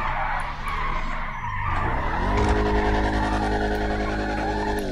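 A car drifts in GTA 5, tires skidding and squealing in a sustained screech while the engine note climbs steadily and holds loud through the slide.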